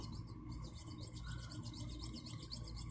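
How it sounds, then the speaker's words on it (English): Steady back-and-forth rasping of a jeweler's saw cutting through a small metal miniature casting, close and continuous with a fast sawing rhythm and no talk. "I have to say I'm kind of impressed with the jeweler's saw."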